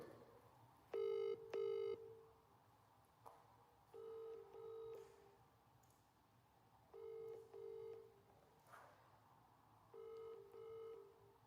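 Telephone ringing on an outgoing call to a prize winner, four evenly spaced double-ring bursts heard clearly with soft background hum between them and no talking.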